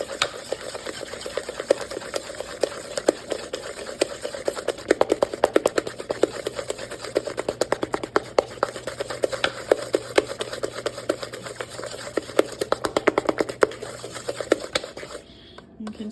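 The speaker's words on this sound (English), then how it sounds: "this is the 4th time that I'm going to give this a vigorous stir" Browned butter for chocolate chip cookies being stirred vigorously in a bowl, a fast, steady scraping and clicking that runs continuously and close up, then stops abruptly near the end.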